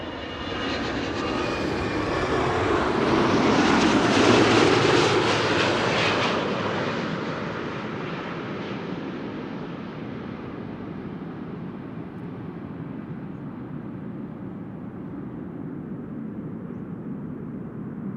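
A passenger jet, a year-old aircraft registered N428DX, touches down smoothly at Amsterdam Schiphol Airport, its loud engine roar swelling and then settling into a long, steady rumble heard from a distance, with no talk.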